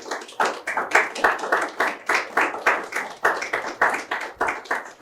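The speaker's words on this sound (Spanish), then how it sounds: "Me gustaría pedirles un aplauso," A small audience at a laboratory academic conference applauds in distinct, rhythmic claps, each hit clear and close, keeping a brisk regular beat throughout.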